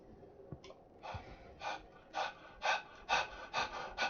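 Breathing heard as if through a door during a fantasy tabletop game session, a voice imitating it: a run of about eight rhythmic, raspy breaths that grow louder and quicker, alone with no talk.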